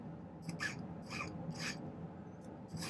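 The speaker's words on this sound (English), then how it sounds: "I'm going to file the end in a taper" A metal file rasps against the end of a silver wire to form a taper, giving short scraping strokes in a steady rhythm, about five passes, close and fairly quiet.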